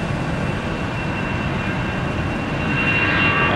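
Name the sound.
Allegiant jet airliner departing Northern Kentucky airport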